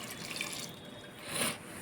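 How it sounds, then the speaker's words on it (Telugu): Water poured into a cooking pot with onion, chilli, ginger and peppercorns for pappu pongal, a short, faint splashing trickle that swells briefly near the end. "వాటర్ యాడ్ చేస్తున్నాం."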